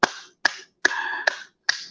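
Five sharp, isolated hand claps or snaps in an uneven rhythm, each a crisp close transient with a short ringing tail, one held longer than the rest, with silence between.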